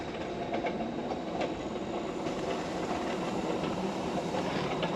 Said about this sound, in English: So the train just leaving the station,